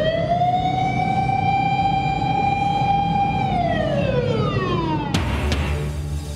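An emergency siren wails loud and steady, holding a high tone before sliding down in pitch, with a sharp clatter of street noise near the end.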